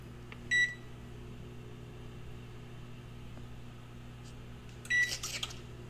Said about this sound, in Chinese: 放进烤箱烤30分钟